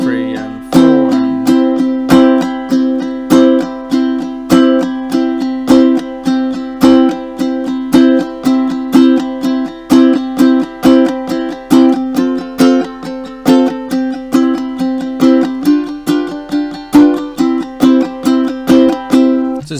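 A ukulele strummed in steady straight eighth-note downstrokes, with louder accents on beats 2 and 4, rings out bright and close as a driving, even rhythm with no voices.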